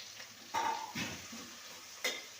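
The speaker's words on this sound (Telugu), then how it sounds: "ఉల్లిపాయలు అయితే వేసుకుంటున్నానండి" Onions dropped into a hot pan for a home-cooked dinner sizzle in short bursts, with a few louder hisses and scrapes over a steady low frying hiss.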